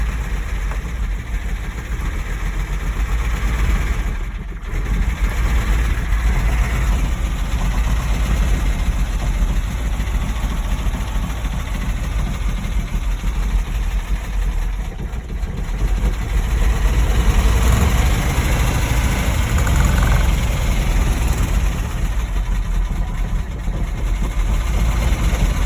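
A 1971 Ford F600 truck engine with a JB Welded cracked block runs rough and vibrating, a loud, continuous low rumble that fills the whole stretch with only slight dips in level and no talking.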